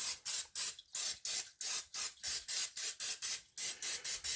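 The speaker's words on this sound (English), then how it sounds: "I will be using butter flavored non-stick cooking spray" A can of butter-flavored non-stick cooking spray hisses in about fifteen short, rhythmic bursts with brief gaps between them, close and fairly loud.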